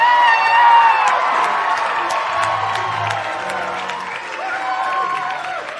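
A live studio audience at a late-night talk show bursts into loud, sustained applause mixed with cheering and whoops, a dense crowd roar that slowly eases over several seconds.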